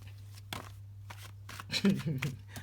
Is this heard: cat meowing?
no